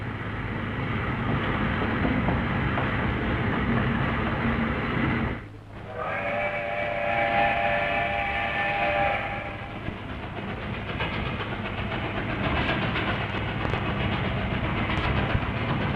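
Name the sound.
steam locomotive train gathering speed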